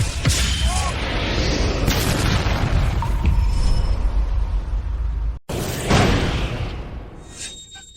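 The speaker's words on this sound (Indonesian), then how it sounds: "Ledakan es guntur langit." A loud magical ice-thunder blast booms and crackles, cuts off abruptly, then a second burst erupts and fades with a ringing shimmer.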